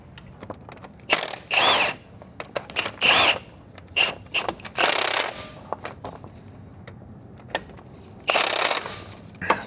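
Power tool bursts while a lower ball joint is installed on a Mini Countryman R60 suspension, several short, loud, close whirring runs mixed with metallic clicks and clanks.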